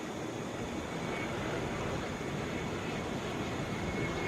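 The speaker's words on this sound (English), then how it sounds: "Boeing 717." Delta Boeing 717 airliner arriving at Atlanta International Airport from Charlotte, a steady, broad jet roar holding at a constant moderate level throughout with no voices.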